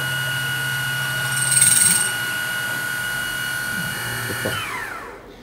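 A CNC milling machine (FRC2) plunges its tool toward electrolytic copper, a steady whining motor hum with tonal spindle drone that shifts pitch, rising briefly in the middle before winding down, close and continuous with no talking.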